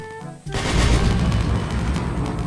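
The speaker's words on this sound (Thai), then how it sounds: "นี่ก็คือภาพบรรยากาศการฝึกปืนและแรงสะท้อนถอยหลัง นะครับขนาด 106 มิลลิเมตร" A 106 mm recoilless rifle firing during a training scene in a Thai military roleplay video game, one sudden loud blast followed by a long, dense roaring rumble that stays loud for the rest of the moment.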